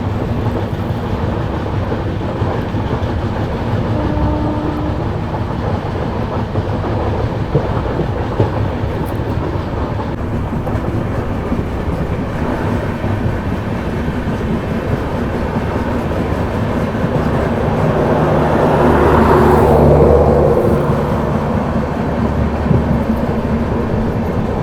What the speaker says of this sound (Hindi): ट्रेन पहुँचने वाली है।